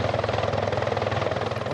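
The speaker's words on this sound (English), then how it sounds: "The Grey Cup landed in Victoria on board a helicopter today" A helicopter carrying the Grey Cup to Victoria, with rotor blades thumping in a steady fast rhythm over a constant engine whine, loud and close with no voices.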